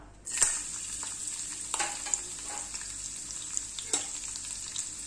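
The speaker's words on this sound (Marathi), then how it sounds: "याच्यामध्ये आपण टाकून घेणार आहोत हे लसूण आणि आल्याचे काप" Garlic and ginger slices frying in oil for a prawn pickle, a constant bright sizzle with a few sharp clinks and scrapes of stirring, close with no voices.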